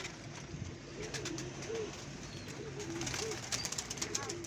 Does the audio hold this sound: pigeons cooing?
yes